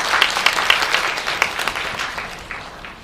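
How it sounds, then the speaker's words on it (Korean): An audience at an international forum claps to welcome a professor to the podium, steady close applause with a few sharp individual claps standing out, gradually thinning toward the end. "큰 박수로 청해 듣겠습니다"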